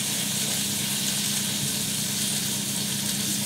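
Breaded haddock frying in a pan, giving a steady, loud, close hiss and sizzle that runs evenly without a break.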